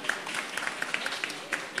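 Scattered, uneven hand claps from an audience at a bar performance by a live music group, a handful of sharp close claps over a steady murmur of crowd noise and voices.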